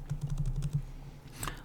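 Java code is typed on a computer keyboard in a quick, even run of close key clicks that stops briefly before a final tap.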